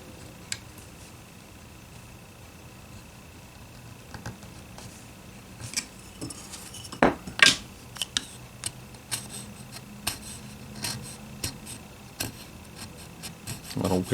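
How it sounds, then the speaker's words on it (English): A small micro chisel shaves wood from a Guild Starfire guitar neck with sparse, light ticks and scrapes that grow into a cluster of sharper cuts midway, close but quiet, over a faint steady hum. "I got a little micro chisel."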